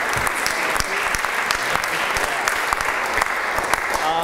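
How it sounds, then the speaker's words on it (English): A debate audience applauds a maiden speaker, steady, loud and dense clapping from a packed room throughout, with no break. "usually when you waive those maiden rights, everybody gives you a round of applause"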